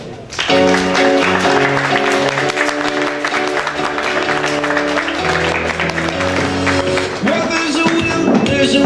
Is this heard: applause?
yes